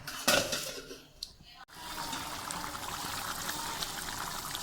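A lid set onto a pan of chicken liver gravy with a brief metallic clatter at the start, followed by the steady hiss and bubbling of the covered pan simmering close by.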